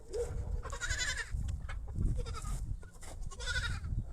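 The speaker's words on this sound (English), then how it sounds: "I just heard a goat cry." Goats on an animal farm bleat loudly and repeatedly at close range, overlapping wavering cries filling the scene with barely any pause between them.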